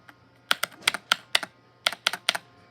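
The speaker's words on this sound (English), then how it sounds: "How can my keyboard sound that good? Especially the space bar." Keys on a custom thocky mechanical keyboard are struck in quick clusters of deep, crisp clacks, close and clear against a quiet background.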